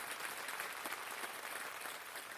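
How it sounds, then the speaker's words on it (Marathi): Applause from a studio audience on a Marathi TV game show after a round, a dense, even wash of many hands clapping, fairly soft and continuous. "जोरदार टाळ्या या राऊंड साठी"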